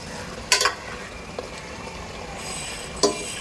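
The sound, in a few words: hot water poured into sizzling pan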